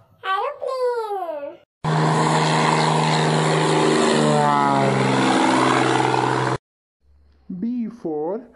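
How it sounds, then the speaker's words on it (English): A propeller aeroplane flying, a steady loud engine drone with a rising whine lasting about five seconds, set between stretches of a sung children's alphabet song. "A for aeroplane."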